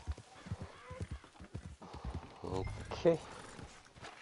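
Horse hooves clip-clopping in the Red Dead Redemption 2 game world, a run of close, even steps that stop abruptly, with a louder rustling burst near the end and a voice talking over it.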